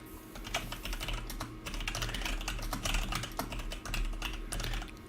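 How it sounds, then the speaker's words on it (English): A Cherry computer keyboard is typed on in fast, uneven bursts of clicky keystrokes, close and fairly loud, over a low steady hum in the room, with no speaking. "I have a cherry keyboard."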